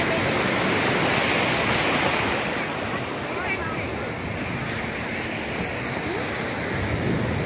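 Ocean waves at Juhu Chowpatty beach in Mumbai roar as a steady, loud wash of surf mixed with wind buffeting the microphone.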